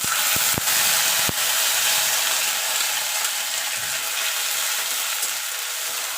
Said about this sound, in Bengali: আদা আর কাঁচা লঙ্কা পেস্ট করে রেখেছিলাম সেটা দিয়ে দেবো